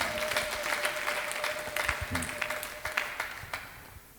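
A church congregation at a Wednesday worship service claps together in a fairly quiet, slightly distant patter of applause that tapers off toward the end, with a sustained tone and faint voices underneath.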